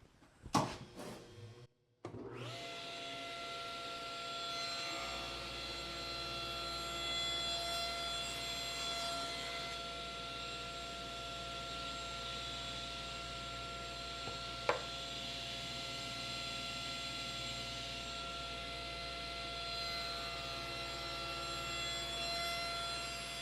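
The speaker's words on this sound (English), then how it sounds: "I'm cutting the miters on the miter sled using the table saw" A table saw runs while cutting miters on a miter sled for a frame molding, giving a steady, moderately loud motor drone with a constant whine that holds for over twenty seconds after a brief clatter at the start.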